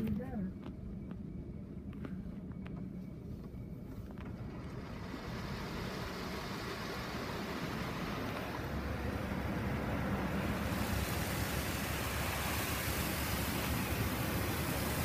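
Powerful car wash dryers roar at the end of a basic soft-touch wash in a Mark VII ChoiceWash XT at a Shell station, a steady broadband blast that swells louder partway through and holds continuously.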